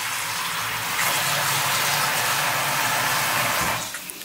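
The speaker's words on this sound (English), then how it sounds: "Just put some water in a container." Water runs steadily from a tap into a container in a home kitchen, a continuous close splashing gush lasting several seconds before tapering off, with no talking.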